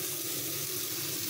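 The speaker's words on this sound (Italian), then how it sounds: "vado a bagnare con un po' di acqua" Water poured into a hot cooking pan to loosen the browned pan bottom, a steady hissing, splashing flow heard close up and alone, without pause.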